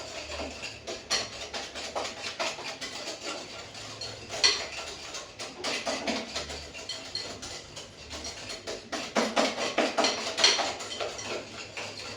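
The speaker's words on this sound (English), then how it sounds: "So let's use this whisk." A hand whisk beats carrot cake mixture of sugar and other ingredients in a bowl, making a steady run of quick metallic clicks and scrapes against the bowl at close range.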